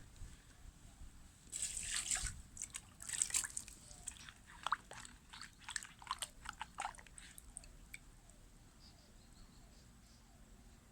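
Water runs and drips while a taro-like plant tuber is rinsed by hand, with faint splashes and small trickling sounds, quiet and close, growing sparser toward the end.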